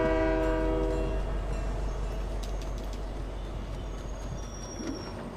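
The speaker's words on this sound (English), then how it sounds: "The train has just taken us away from there, back down the way we came." A train in the Fortnite video game rolls along with a steady low rumble, and its horn blares near the start before fading, followed by faint clicks and small game sounds.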